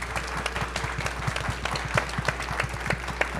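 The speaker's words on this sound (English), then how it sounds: "please join me in a round of applause for our panelists" Round of applause for panelists at the Devcon VI conference in Bogotá: a room of people clapping steadily with distinct individual claps audible, fairly distant and sustained over a low hum.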